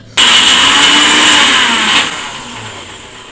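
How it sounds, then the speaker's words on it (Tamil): A mixer grinder starts abruptly and whirs loudly and steadily, coarsely grinding vada batter with a little salt added. The motor pitch shifts slightly near the end. "இதை நைஸாக அரைக்காமல் கொஞ்சம் தரன்னு அரைச்சிக்கணும்."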